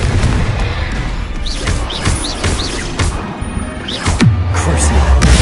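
Confringo blasting spell explosions in Hogwarts Legacy, loud booming bursts and crackling impacts repeated several times over a dense battle din, with chirping magical whistles.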